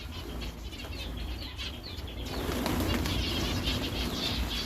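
A flock of birds, likely pigeons, beats its wings as feed is poured out for them, a dense, busy flutter that swells and grows louder midway through, with faint calls mixed in.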